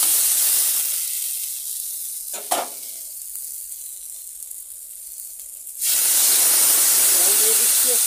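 Water pours into a hot frying pan and erupts in a loud hiss that fades to a quiet simmer with a sharp clink midway, then a second burst of loud sizzling near the end.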